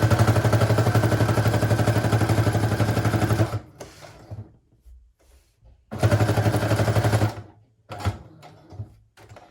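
A sewing machine stitches fabric for a large handmade journal in two loud, rapid bursts of rhythmic mechanical chatter, separated by quiet pauses with faint handling clicks.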